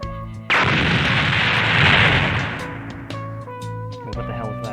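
A Revenge Death Bomber attack in the video game Overhaul erupts as a loud, sustained roaring blast that swells and then fades into layered game tones and music, with no spoken voice over it.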